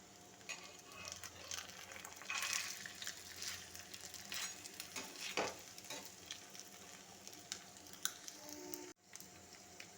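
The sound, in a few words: paneer pieces frying in a pan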